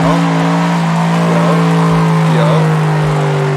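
A loud, steady car engine drone from a sim racing game plays throughout a clutch kick, holding a constant high-revving tone with faint tire noise.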